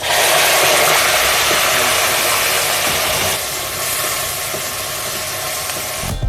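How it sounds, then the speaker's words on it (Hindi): Chopped onions hitting hot oil for a Pakistani mutton curry, a loud, dense sizzle that hisses steadily, easing slightly partway through, with no voices. "ये प्याज ऑयल में डाल देंगे अब।"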